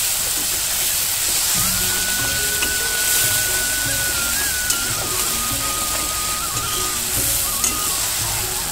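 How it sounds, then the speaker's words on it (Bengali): Spice paste with chili powder and salt stir-fried in a pan for an aloo-potol-paneer curry, a steady broadband sizzle with a faint tonal whine running through, continuous and close, no talk. "এবার দিয়ে মশলাটাকে ভালো করে কষিয়ে নেব আমি"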